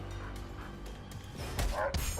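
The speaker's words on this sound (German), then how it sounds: "Der arme Hund ist schon verprügelt." Beaten dog in the video game South Park whimpering and yelping in short bursts over low game background noise, growing louder toward the end.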